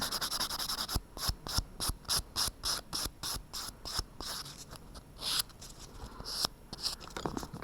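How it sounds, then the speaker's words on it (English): Nails buffed with a 180 grit file in a manicure finishing task, giving a rapid series of short, close, dry rasping strokes in a steady rhythm, with a few longer pauses between bursts. "I would just take my effects file, which is 180 grit buffer, and I would reduce the scratches."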